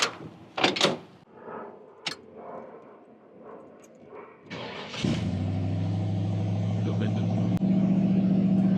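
A 1955 Chevy Tri Five barn find, an older resto mod, is started up nearby: clicks and door thumps, a short cranking whir, then the V8 catches and settles into a steady, loud, rumbling high idle.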